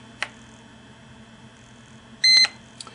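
IQ120 food thermometer giving short electronic beeps as it leaves program mode: one brief chirp, then a longer, louder beep near the end and a faint final blip over a quiet room hum.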